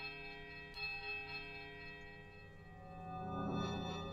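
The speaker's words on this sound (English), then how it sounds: "The bells, merry tolling sounds once more through the ruins." Bells in the Pillars of Eternity video game ring through ruins: a sharp strike gives way to long, sustained metallic overtones that shimmer and slowly swell, with no speech over them.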